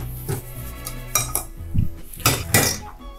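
Spoon stirring a wintry tiki cocktail made with citrus peel, giving light clinks and scrapes of metal against glass, close and moderately loud, in a few bursts with pauses between.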